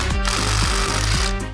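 A power tool, likely an impact driver, rattles in a loud, rapid hammering burst as it works a screw on an Audi RS3 axle, steady and close for under two seconds with no talking.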